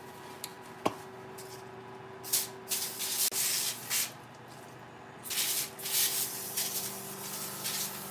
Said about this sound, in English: I'm going to put some oil on these things. I can actually use the spray.